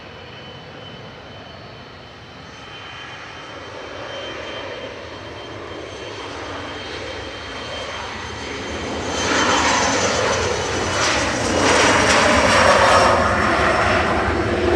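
Jet airliner taking off from Manchester Airport, with a distant engine roar that builds into a loud, broad rush as the aircraft passes, continuous and growing to a peak near the end, with a brief spoken word.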